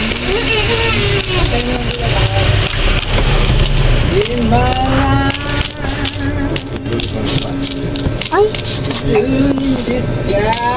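Video game car engines whine and rev with rising and falling pitch, mixed with buzzing traffic noise, while a person talks over the gameplay throughout.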